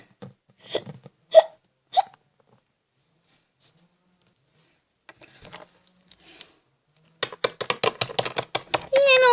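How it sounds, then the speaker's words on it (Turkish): Several sharp hiccups in a cluster, then a quiet pause with small noises, followed by rapid giggling and laughter close to the mic. "Hıçkırık mı?"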